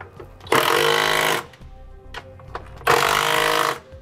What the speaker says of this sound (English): We'll now tighten all of our hardware back down.